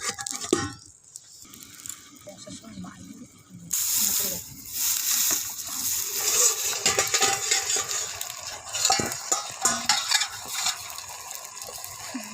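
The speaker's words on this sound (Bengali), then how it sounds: "এবারে নাড়া দিয়ে ফের কিছুক্ষণের জন্য বন্ধ করে দেবো" A spatula stirs a thick, simmering curry of pumpkin stalks, potato and aubergine in a pan. It starts quiet, then a louder, steady bubbling sizzle sets in, with irregular scraping and clinking strokes throughout.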